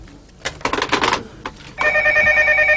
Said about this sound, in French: Je ne veux plus entendre ce truc, vous me débranchez le téléphone.